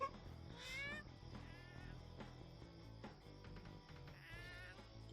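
Cartoon cats meow and caterwaul in rising, wavering yowls over a steady bed of background music, with two prominent drawn-out cries standing out near and clear in an animated comedy episode.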